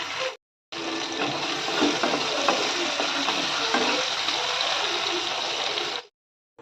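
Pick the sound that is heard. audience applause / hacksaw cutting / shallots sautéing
shallots sautéing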